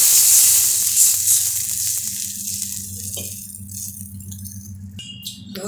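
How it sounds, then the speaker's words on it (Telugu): Half a glass of water poured into a sizzling green chilli tempering for dhokla sets off a loud hiss that gradually fades to a softer simmer, with rattling and a few clinks near the end. "పచ్చిమిర్చి కొద్దిగా ఫ్రై అయిన తర్వాత ఒక హాఫ్ గ్లాస్ వాటర్ వేసుకోవాలి"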